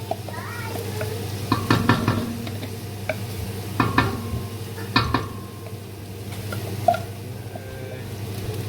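Blended garlic, ginger and chili go into softened onions frying over high heat in a pan for a curry chicken, stirred with a utensil that clinks and scrapes against the pan several times above a steady low hum and a faint sizzle.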